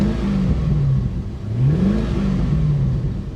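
A C5 Corvette engine revving under throttle, with the pitch rising and falling through a few close, steady revs.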